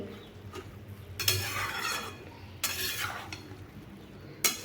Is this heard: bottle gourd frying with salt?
yes